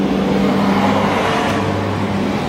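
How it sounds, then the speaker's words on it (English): Steady, loud roar of traffic on a main street, with cars passing close by and a constant engine and tyre rumble that fills the whole stretch without pause or talk. "Sorry about the noise, but"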